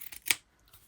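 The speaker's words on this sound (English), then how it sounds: "I've got a bit here that I want to cut off, so let's back out the new fabric scissors." One crisp snip of brand-new fabric scissors cutting through a fabric scrap for a lace-trimmed junk journal cover, close and quiet, a single short cut followed by near silence.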